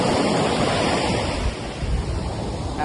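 Ocean waves wash onto a sandy beach at Chennai in a steady, loud, close roar of surf, with gusting wind buffeting the microphone throughout and no voices.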